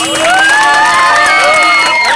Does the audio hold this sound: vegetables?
no